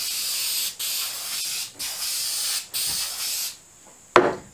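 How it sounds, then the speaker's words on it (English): A spray can lays clear lacquer onto a rustic TV cabinet built from construction lumber, giving four loud sustained hissing bursts with short pauses between them and a sharp knock at the end. "get some spray lacquer that I have and go ahead and give it a couple of coats of clear lacquer"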